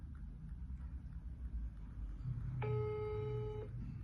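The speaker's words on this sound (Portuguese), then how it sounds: "Só chama, só chama." An outgoing phone call gives one steady electronic ringback tone lasting about a second over a faint background hum.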